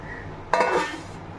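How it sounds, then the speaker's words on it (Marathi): A metal lid lands on a pot of steaming veg paneer momos with a single bright clank and a short ringing clatter, close by and otherwise quiet. "आणि वरती झाकण ठेवायचं आहे."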